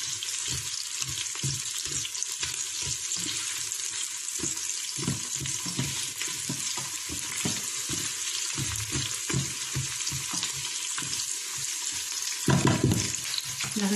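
Garlic and onion sauté in a pan with a steady, close sizzle, broken by frequent scraping stirs and a louder clatter near the end.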